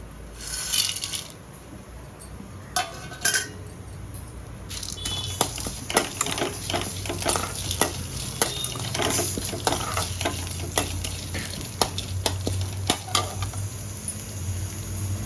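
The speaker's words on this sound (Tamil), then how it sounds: "இப்போ எடுத்து வச்சிருந்த பட்டை வகைகள் எல்லாத்தையும் போட்டுக்கலாம்." Whole spices frying in sesame oil in a kadai, a steady close sizzle with stirring scrapes and clinks of a spoon against the pan throughout, no talk.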